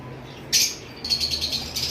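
Pet birds, including pied and lutino varieties, in an aviary give a few sharp, high chirps, one short burst followed by a longer run of calls over a low background hum.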